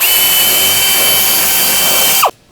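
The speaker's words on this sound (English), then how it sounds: "Drill 13/64 drill bit." A power drill fitted with a 13/64 bit bores a hole during assembly of a PolyJohn portable unit, one loud steady whine for about two seconds that winds down quickly and stops.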